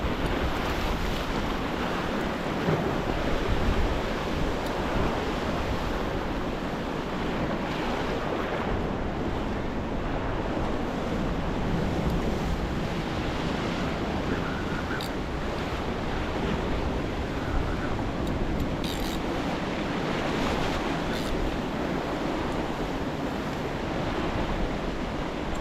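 Ocean waves wash continuously below a fishing cliff, a broad steady surf roar mixed with wind buffeting the microphone, with no voices throughout.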